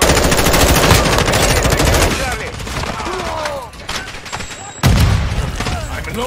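Call of Duty match with dense, close machine gun bursts rattling rapidly, then scattered shots and pauses before another heavy burst, with faint voices beneath the gunfire.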